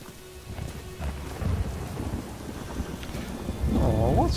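Rain and thunder in the video game Morrowind: a steady patter of rain with low rumbling thunder rolling through and building louder toward the end, with no talk.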